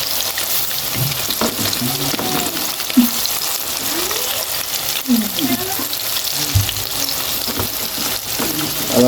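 Amodi fish pakoras deep-fry in hot oil with a constant close sizzle and bubbling. Occasional stirring clinks and scrapes rise above it, and no talk is heard.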